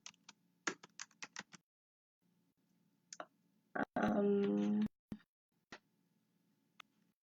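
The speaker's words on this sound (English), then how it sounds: "I'm gonna type in Monroe." Short bursts of keyboard typing on a computer, a few quick clatters of keys separated by pauses, fairly close and moderately loud, with a louder buzzy sound in the middle.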